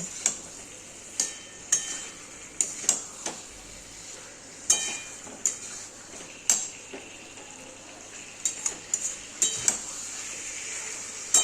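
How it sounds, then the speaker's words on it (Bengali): Fried potatoes stirred with spices in a pan for vegetarian aloo dum, giving a faint steady sizzle broken by repeated sharp spatula scrapes and clinks against the pan. No one speaks. "এরপর এই আলুগুলো দিয়ে মশলার সাথে বেশ করে আমি কষিয়ে নেব"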